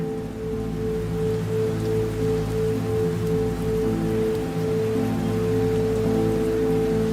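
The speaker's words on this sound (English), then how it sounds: "drenched by the rain which poured from a black and comfortless sky" Heavy rain pours down in a steady, dense wash with no letup, accompanied by a low droning hum underneath.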